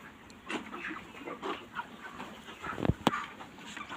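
Forty-day-old broiler chickens on a village poultry farm make scattered faint clucks and chirps over a quiet shed ambience, with a louder call near the end.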